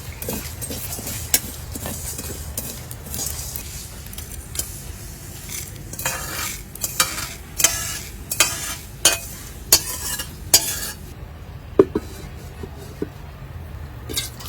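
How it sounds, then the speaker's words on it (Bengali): Fenugreek seeds and dried red chili fry gently in a pan with a steady low sizzle, while a utensil stirs and scrapes, giving sharp metallic clinks against the pan at irregular intervals, louder toward the end. "আমি সব মশলাগুলো দিয়ে দিচ্ছি।"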